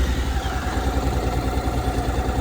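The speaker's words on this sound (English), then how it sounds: "You're gonna start the engine." A Honda DCT motorcycle such as a CTX700 or NC750X idles, giving a steady low, throbbing engine rumble that stays even for a couple of seconds.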